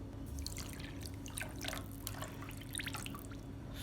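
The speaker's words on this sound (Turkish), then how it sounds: "Şimdi üzerine 3 su bardağı su ekliyorum." Water being poured over sugar in a pot to make syrup for a no-boil dessert, a steady splashing and trickling with scattered drips, close and continuous for a few seconds with no talk.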